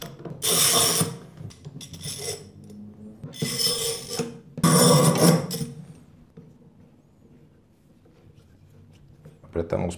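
Woodworking clamps being tightened on a freshly glued end-grain cutting board with hardwood reinforcement boards, producing several close bursts of rasping, ratcheting turns separated by quieter pauses as someone speaks.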